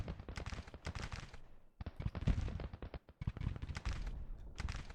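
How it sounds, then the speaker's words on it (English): Cannon and rifle fire in the American Civil War strategy game Grand Tactician, with rapid crackling volleys and dense bursts of shots overlapping, a short lull in the middle, then more rattling fire. "Huger and his guns try to fire on the retreating Union forces."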